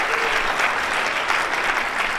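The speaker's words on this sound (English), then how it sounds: "another round of applause for everyone who's played the amount of time" Dense, steady applause from an audience at a school scholars' concert in a hotel venue, close and sustained throughout with no gaps.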